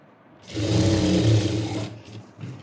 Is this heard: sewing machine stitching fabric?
yes